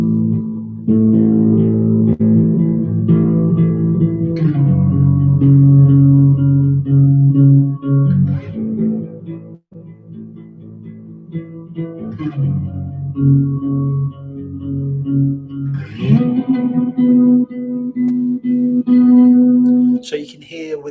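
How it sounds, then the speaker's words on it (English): An electric guitar plays two-note dyads through an amp with reverb and delay, letting sustained, ringing chords overlap in a soft, moody wash. The notes change every few seconds across about twenty seconds. "So you can hear with that reverb and delay that's on the amp, just using those two fingers, you can create a really nice mood and a nice kind of soundscape."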